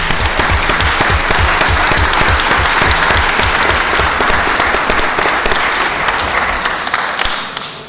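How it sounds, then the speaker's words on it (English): Applause from an audience at a city council planning and land use committee meeting, dense steady clapping lasting several seconds, loud and close, fading slightly at the end. "One round of applause, Mr. LeGrand."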